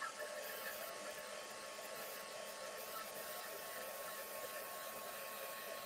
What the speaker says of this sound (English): So now I'm just going to heat set this ink with my heat tool just to dry it.